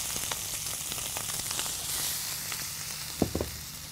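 Chopped onion and split ripe chillies fry in oil for a mung-bean and sago khichuri, giving a steady soft sizzle with a low hum beneath and a couple of brief knocks near the end.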